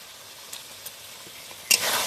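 A chicken wings curry seasoned with garam masala being stirred in a pan: faint scrapes at first, then a sudden close sizzle that swells and holds near the end.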